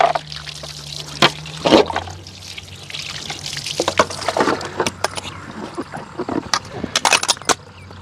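Water splashes and trickles as a house is washed down for cleaning, with irregular pours, sloshes and bursts of spray, some sharp clatters between, fairly close and loud.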